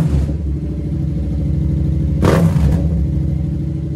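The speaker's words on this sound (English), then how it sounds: "look at the revs" Tuned 2015 Yamaha FZ07 motorcycle engine running close by with a steady low rumble, a short sharp rev rising around the middle before settling back to idle.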